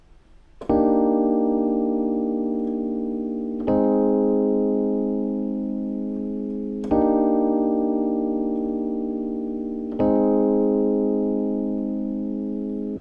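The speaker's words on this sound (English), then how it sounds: "Chords sound like this." Four sustained piano chords, transposed up three semitones, are struck about every three seconds. Each one rings out and slowly fades, clear and unaccompanied.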